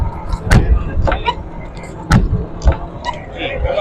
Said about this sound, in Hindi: बैक डोर्स की बात करें, बैक डोर्स भी आपको दिखा देते हैं।